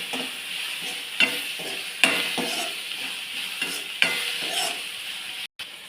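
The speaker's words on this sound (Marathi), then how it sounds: "थोडीशी हळद, थोडेसे लाल तिखट, व्यवस्थित याला परतवून घेऊ." Okra stir-fried in a pan with turmeric and red chilli, a steady sizzle broken by rhythmic spatula scrapes and occasional sharp taps against the pan, close and unaccompanied by speech.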